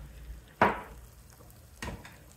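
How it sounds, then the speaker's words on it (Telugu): Asafoetida tempering in hot oil for a tamarind-leaf dal, with two short bursts of sizzle, a loud splutter and then a softer one, over a quiet low kitchen hiss. "తిరగమాత వేయించుకున్నాం కదా"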